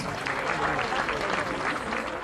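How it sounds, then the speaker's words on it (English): Brief burst of steady, dense audience clapping at the Botswana Sport Awards ceremony, moderately loud and sustained throughout. "a round of applause for that."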